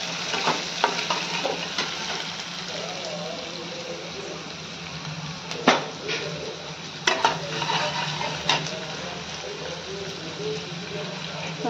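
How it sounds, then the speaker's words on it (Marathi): Onion frying in oil for aloo matar poha sizzles in a steady soft hiss, broken by a few scraping stirs of a spatula against the pan at irregular intervals. "कांदा थोडा परतून घेऊया."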